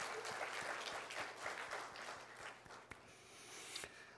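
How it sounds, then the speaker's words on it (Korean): A church congregation at a Sunday morning service claps together in a steady burst of applause, with the clapping loud at first and then thinning as it fades away. "우리 다시 한번 하나님께 영광의 박수 한번 올려드리겠습니다."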